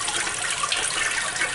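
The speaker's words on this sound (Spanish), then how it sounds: "a lo que descargamos el agua del baño" A bathroom toilet in a house inspection is flushed, giving a loud, rushing gush of water that runs steadily for the whole short moment.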